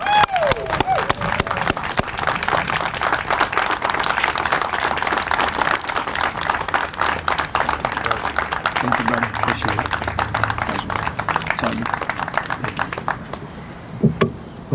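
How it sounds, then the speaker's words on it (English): Sustained applause from an audience at an awards event, dense clapping lasting many seconds and tapering off near the end, with faint voices underneath. "Appreciate the applause."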